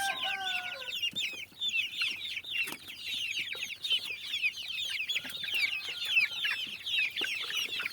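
A flock of domestic Dominant-breed chicks and young hens, nearly two months old, cluck and peep continuously, many small voices overlapping at close range with no talking.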